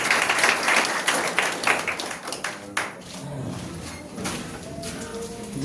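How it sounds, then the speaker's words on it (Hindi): A church congregation clapping hands during a testimony gathering, bursts of uneven clapping that thin out midway and pick up again, with some room noise and faint voices. "ताली बजाकर"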